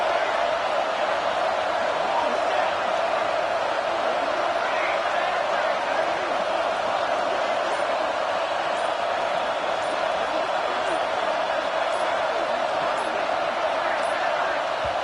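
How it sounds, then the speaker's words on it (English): A football stadium crowd at a college HBCU game roars as one dense, steady wall of noise that stays loud and constant throughout, without clear individual voices. "Listen to this crowd just shaking the girders of this place, trying to help their defense."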